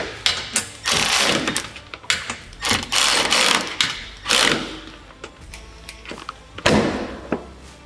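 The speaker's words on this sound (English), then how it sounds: "use a wrench here, and then slide it back around this way, and use a socket on this back side." A wrench and socket ratcheting as bolts are tightened while fitting SuperATV aluminum doors on a CFMOTO UForce 1000 XL UTV, loud and close, with irregular quick clicking bursts, metallic clanks and brief pauses.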